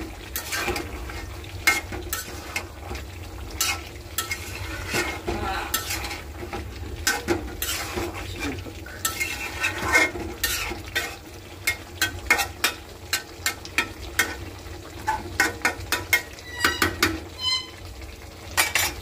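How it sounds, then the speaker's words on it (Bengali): Spoon scraping and knocking against a pan while curry cooks, a quiet sizzle beneath irregular clinks and scrapes that grow busier toward the end. "এখন তরকারিটা নাড়া দিব"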